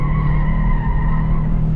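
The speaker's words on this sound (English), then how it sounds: "He's blowing donuts up there" A car spins donuts at a 2023 PDI test drive, its tires skidding in a loud, continuous squeal over a steady engine roar, with no talking.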